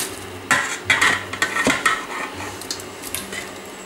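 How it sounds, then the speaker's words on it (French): Metallic clinks and clatter of a saucepan and utensils as figs and sugar syrup go in, a few sharp knocks followed by softer scraping and sloshing sounds. "je remets le sirop de sucre dans la casserole"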